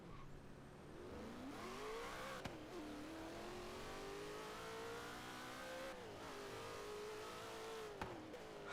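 Cleetus McFarland's Leroy drag car, a 2000-horsepower build in Forza Horizon 3, revs loudly and steadily, its engine pitch climbing in long sweeps with brief dips between pulls.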